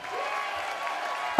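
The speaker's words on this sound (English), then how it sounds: "Applause here" Applause from a crowd at a political campaign event, a steady, moderately faint patter of clapping lasting a second or so, ending with a short sharper burst.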